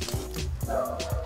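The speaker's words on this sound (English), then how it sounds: "So now I can hear your dogs." Dogs barking in a short burst of several quick, close, fairly loud barks and yips, with a bit of background voice mixed in.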